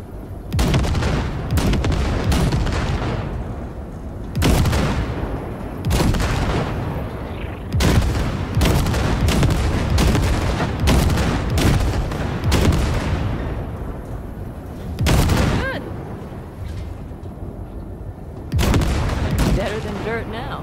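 Loud gunfire in Cyberpunk 2077 blasts at wrecks in repeated heavy bursts and booming volleys, close and punchy across the whole stretch, with brief pauses between salvos and voices now and then.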